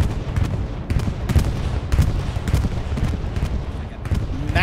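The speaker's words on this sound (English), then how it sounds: "Oh, big bombing run coming there in." Bombing run in the World War II shooter Hell Let Loose: a continuous rumble of explosions and scattered gunfire, with sharp blasts recurring roughly every half second over a dense low-end roar.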